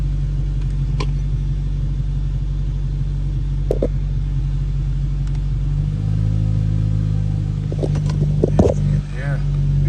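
A steady, fairly loud whoosh of air from a Nissan Sentra AC blower motor running on low, swelling a little partway through, with brief voices near the end.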